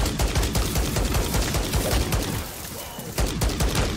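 Sustained full-auto gunfire in Call of Duty: Modern Warfare 3 zombies mode, loud and continuous, with rapid overlapping shots and only a brief dip before the firing resumes.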